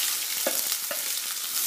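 Onions sizzle and fry steadily in a pan with cardamom and cinnamon, a dense hiss broken by a few soft stirring knocks, close up with no voices.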